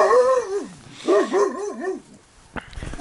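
A mother dog yaps and whines at her puppies outdoors, a few rising and falling high-pitched barks and whimpers in short bursts, close and fairly loud, ending with a faint sharper noise.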